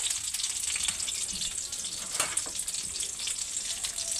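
Fish frying in a pan, a steady close hiss and crackle of hot oil that runs continuously without any talking.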